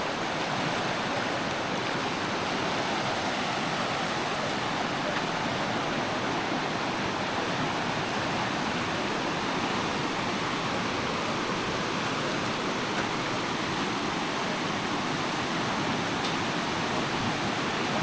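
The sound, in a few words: flowing river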